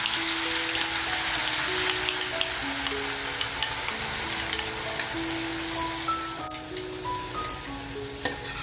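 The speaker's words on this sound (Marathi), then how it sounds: "मसाला तेलात टाकून घ्यायचा." Spice masala sizzles loudly in very hot oil for a sardine curry, a dense close crackling hiss with a quiet background tone that eases slightly toward the end.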